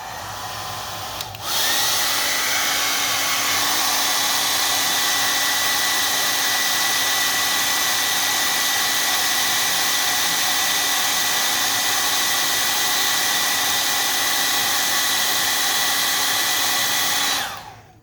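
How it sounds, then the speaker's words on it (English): A hair dryer blows hot air onto a circuit board, starting with a click and then roaring steadily and loudly for about sixteen seconds before cutting off. "we're going to use a hairdryer to heat up the board"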